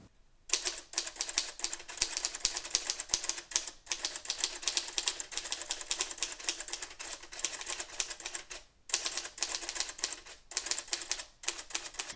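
A Royal Futura manual typewriter is typed on quickly, producing a rapid, close run of crisp metallic key strikes with a few short pauses, including one around the carriage return.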